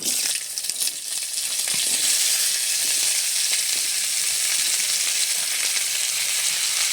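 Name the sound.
okra, long beans and potato frying together in a pan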